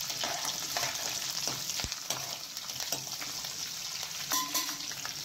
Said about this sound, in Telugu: పచ్చిమిర్చి బాగా వేయించుకుని తర్వాత జీలకర్ర కూడా యాడ్ చేసుకుందాం.